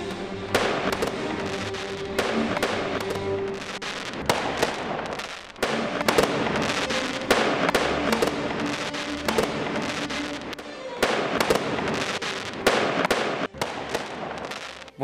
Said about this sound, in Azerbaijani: Yenə atəş, yenə ovçuluq.